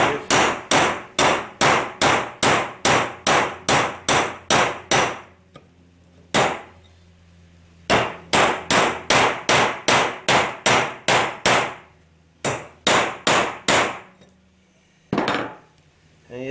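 Sharp metallic hammer strikes from a brass hammer driving a wheel bearing on a Polaris RZR 900, loud and close in rapid even bursts of about ten blows, then a pause, another run, and a shorter final burst.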